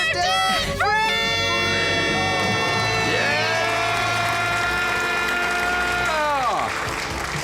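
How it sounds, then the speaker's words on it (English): A crowd of about 100 people cheers and claps loudly after a debt-free scream, with sustained whoops and shouts rising and then fading out near the end. "100 people cheering them on"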